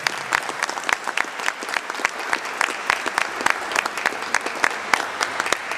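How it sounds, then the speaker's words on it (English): A gathering at an outdoor rally claps loudly, with distinct close individual claps popping out over a continuous bed of crowd applause that holds steady the whole time. "Let's give yourselves a round of applause."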